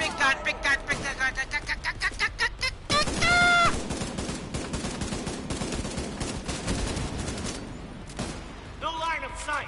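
Heavy weapon fire in The Division 2: rapid bursts of gunshots, then a sustained loud barrage of overlapping blasts and impacts, with more bursts at the end and excited players shouting over the game audio.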